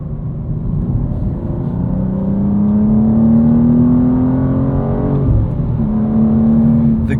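A 2025 BMW M2 with a 473 hp engine and six-speed manual pulls hard out of a corner. The loud engine drone climbs steadily in pitch, dips briefly at a shift, then rises again.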